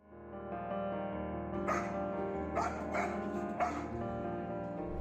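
A Golden Retriever barks several times in quick succession near a child, the barks close and clear over a steady background with no one speaking.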